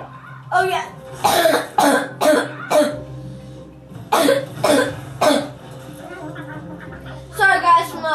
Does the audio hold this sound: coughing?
yes